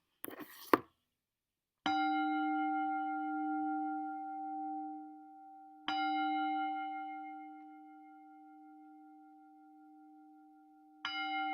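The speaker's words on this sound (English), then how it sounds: "I'm going to invite the bell." A mindfulness bell is struck three times, each strike ringing out with a long, clear, sustained tone that slowly fades, after a brief rustle at the start.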